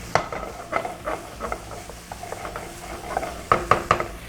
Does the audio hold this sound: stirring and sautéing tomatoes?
yes